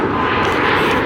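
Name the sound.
airplane flying overhead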